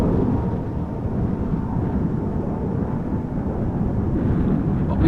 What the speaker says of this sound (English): 777 departing to China